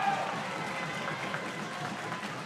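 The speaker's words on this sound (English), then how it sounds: "This bloodthirsty, sold-out Davis Arena crowd loving every bit of it." A sold-out Davis Arena wrestling crowd gives a steady, fairly distant wash of cheering and applause at a live Thanksgiving wrestling show.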